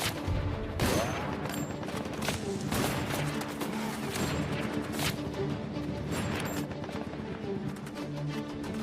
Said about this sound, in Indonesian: Para pemberontak pun kemudian memberondong secara membabi buta ke arah mereka.